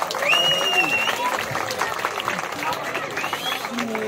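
Crowd clapping at a Greek village festival for the band, a steady wash of applause under someone talking, with whistling tones from the orchestra or crowd drifting through.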